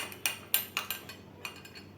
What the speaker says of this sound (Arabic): افضل اقلب فيها برضو كده بالمعلقة لغاية ما تعمل عندي فوم